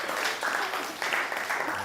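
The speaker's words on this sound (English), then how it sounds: "Let's clap for her." A group of people clap steadily for a student in a classroom in Ghana, a soft, continuous patter of applause lasting a couple of seconds with no clear voices.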